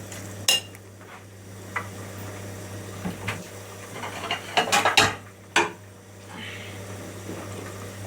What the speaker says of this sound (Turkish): üzerine biraz tuz ekleyip iyice karıştırıyoruz